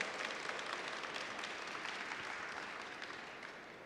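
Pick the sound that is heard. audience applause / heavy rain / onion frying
audience applause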